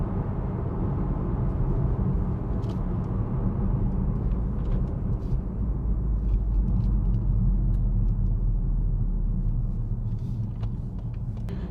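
A 2021 Ford Puma ST's 1.5-litre turbocharged three-cylinder petrol engine drives along, a steady low engine drone and road rumble filling the cabin without pause, loud and continuous with no talk.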